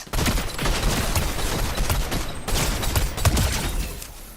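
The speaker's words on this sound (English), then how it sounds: "Who the fuck is shooting at him from over here?" Dense gunfire in the battle game Naraka: Bladepoint, a near, loud volley of rapid overlapping shots that keeps going for the whole stretch with no talk over it.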